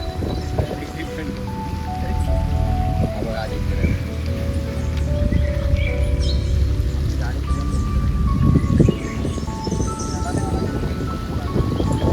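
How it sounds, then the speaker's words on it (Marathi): Steady, heavy rain drums loudly and continuously on surfaces close by on Brahmagiri mountain, with faint voices and tones mixed into the downpour. "पाऊस जोरदार चालू झाला"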